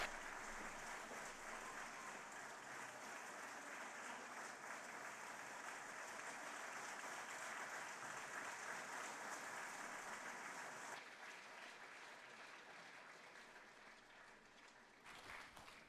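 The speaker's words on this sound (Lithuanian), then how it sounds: "Didžiausi aplodismentai mūsų mažajai Lėjai." An audience applauding a young girl named Lėja at a Lithuanian Independence Day event in Mažeikiai, sustained dense clapping that fades somewhat near the end.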